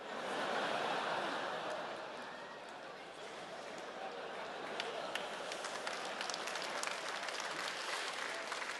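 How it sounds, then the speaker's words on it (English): A comedy club audience breaks into applause that starts fairly strong, dips, then continues as a steady, moderate patter of clapping, with some murmuring underneath. "tentative clapping"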